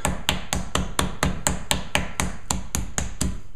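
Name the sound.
pounding steak with a meat pounder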